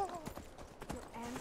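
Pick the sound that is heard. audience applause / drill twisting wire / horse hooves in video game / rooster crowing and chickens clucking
horse hooves in video game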